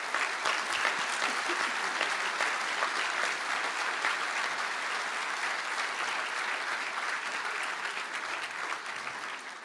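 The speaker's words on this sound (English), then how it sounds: "for a well-deserved round of applause." An audience at a university conferring ceremony in Galway applauds graduating Master of Science in Design and Innovation students; steady, moderately distant clapping from a large hall continues throughout and slowly tapers.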